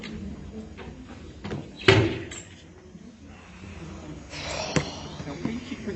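A locked door is tried and rattled, with a sharp loud clack and then a second rattle a few seconds later, close by in a quiet room.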